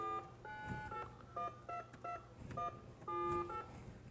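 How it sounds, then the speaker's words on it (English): Phone keypad dialing tones played by a software keypad app: a rapid run of short, pitched beeps in uneven rhythm, clear and steady over a faint background hum, no talking. "does all the sounds just like you would with a phone"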